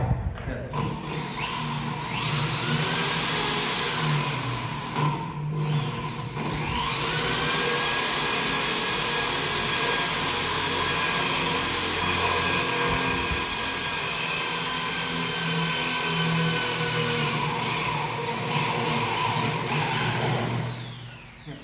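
A cordless hammer drill, shown as able to drill into concrete with hammer action, runs with a loud, steady motor whine and buzzing harmonics, briefly dipping twice early on before holding a constant pitch to the end.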